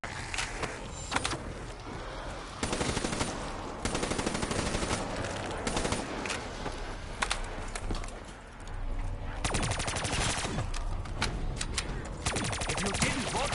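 Loud, sustained automatic gunfire mows down zombies in a video game's zombies mode at round 55, with rapid bursts broken by short pauses.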